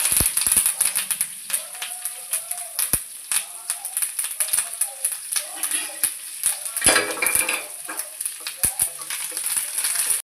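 Garlic and curry leaves fry for a chutney tempering: a constant bright sizzle with repeated sharp clinks and scrapes of a metal spoon stirring in the pan.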